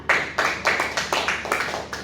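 Classroom applause for a student group: sharp, evenly spaced claps repeat in a quick steady rhythm about seven times in two seconds, fairly close and clear, with no talking.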